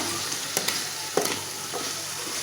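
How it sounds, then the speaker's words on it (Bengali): Spices and potatoes frying in a pan, a steady close sizzle throughout with a few scraping stirs of the spatula breaking through. "তো আমি আলুটাও এটার লগে কষাই লুমু।"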